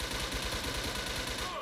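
Gunfire in the Wolfteam first-person shooter rattles in rapid automatic bursts, a dense continuous volley heard up close for the whole stretch.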